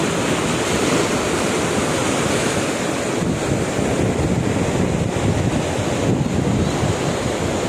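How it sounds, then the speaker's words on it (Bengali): Sea waves at Kuakata beach in Bangladesh, with a constant roar of surf and gusting wind buffeting the microphone, loud and unbroken throughout, with no voices. "আনন্দ পাচ্ছি এই সমুদ্রের হাওয়া, মৃদু হাওয়া"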